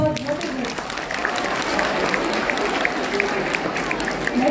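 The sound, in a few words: audience applause at a college event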